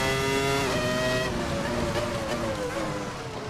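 A race car in Assetto Corsa on a wet track climbs steeply uphill, its loud, buzzing engine note rising and then dropping as it shifts up through third, fourth and fifth gears, close and alone.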